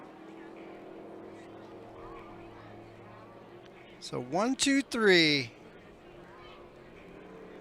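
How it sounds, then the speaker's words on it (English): A racing boat at a Thanksgiving regatta roars past close by in a brief, rising-and-falling engine whine, with someone talking over the steady background. "And then your third place boat right here."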